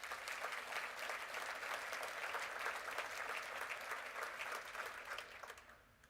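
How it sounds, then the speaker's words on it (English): An audience at a university morning event gives a round of applause, with thick continuous clapping from a large crowd for several seconds that then tapers off toward the end. "How about a round of applause for them?"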